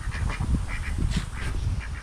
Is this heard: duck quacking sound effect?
yes